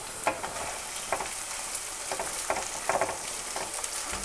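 Cooked rice being stirred into a hot pan: a continuous loud sizzle with regular light scraping strokes of a spoon every half second or so, no talking.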